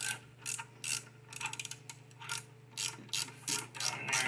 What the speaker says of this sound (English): Use our wrench.